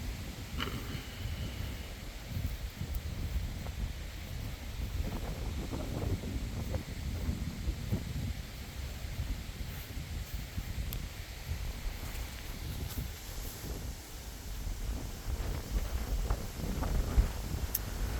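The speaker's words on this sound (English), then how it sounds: "the wind's blowing, so I don't know how this audio is going to come out" Steady wind buffets the microphone outdoors at the memorial to the 1876 Ashtabula bridge collapse victims, a continuous low rumble with rustling, no one speaking.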